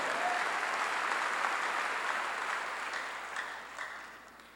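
A church congregation applauds during a pastor's sermon, a dense burst of clapping that starts loud and gradually thins out and fades over a few seconds.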